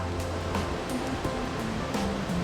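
A mountain creek on Mt Yanbushi in Shizuoka Prefecture rushes in a constant, fairly loud wash of flowing water, with no voices.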